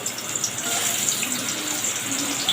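Marinated chicken deep-frying in hot oil gives a continuous, close, loud bubbling hiss that stays even throughout without a break.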